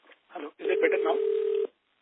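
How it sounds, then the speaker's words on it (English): A phone tone cuts into an earnings conference call line: one steady electronic tone holds for about a second over muffled talk, cutting off abruptly. "There is a ringtone coming from the phone around you or from your phone"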